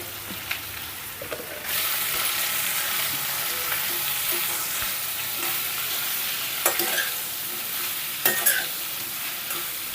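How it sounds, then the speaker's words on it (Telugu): Capsicum pieces with turmeric and salt stirred in a hot pan: a continuous close sizzle with scraping spatula strokes and a few sharper clinks of utensil against the pan. "ఒకసారి ఇలా కలుపుకున్న తర్వాత"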